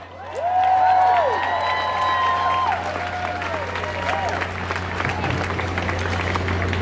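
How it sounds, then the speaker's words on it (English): A crowd at an outdoor Brooklyn rally applauds warmly, sustained clapping with some cheering and whoops rising sharply then holding steady, voices mixed into the noise. "Let's give her a warm round of applause."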